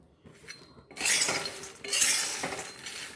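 Peanuts dry-roasting in a pan on low heat, stirred with a metal spoon, making a scraping, rattling clatter that starts after a quiet moment and goes on in loud, close sweeps.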